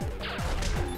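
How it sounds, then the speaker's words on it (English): Explosion in the Castle Crashers Remastered video game: dense, noisy crashing bursts with several quick descending whooshes, loud and continuous for about a second with no voices. "Oh, that's cool. Nice explosion."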